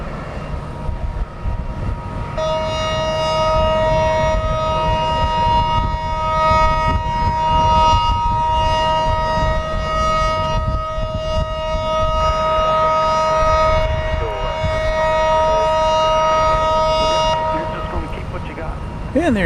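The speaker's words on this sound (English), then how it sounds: "And there you hear a warning siren." Warning siren at Dallas Love Field airport, a steady multi-toned wail held for about fifteen seconds over airport rumble, with someone talking through much of it.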